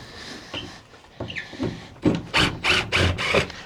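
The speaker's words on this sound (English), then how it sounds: "I should be able to pull these 3 screws or 2." Screws being pulled from wooden garden shed panels, with creaking, rubbing wood and a run of several rasping squeaks toward the end, close and fairly loud, with no talking.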